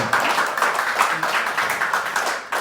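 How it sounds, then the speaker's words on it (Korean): An audience applauds at a talk concert with a Chuncheon city council member, steady clapping of many hands with slight rhythmic swells that fade toward the end. "여러분들 박수 편하게 주시면 될 것 같습니다"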